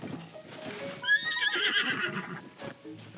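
A horse neighs in The Legend of Zelda: Tears of the Kingdom, a clear mid-length whinny rising over soft hoof clip-clops and faint game ambience on a mountainside.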